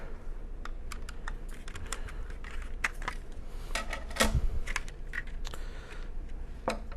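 An 8-zone LED keypad casing for an NX Series control panel is pried open by hand, giving a string of small, close plastic clicks and snaps with one louder crack partway through; no voices.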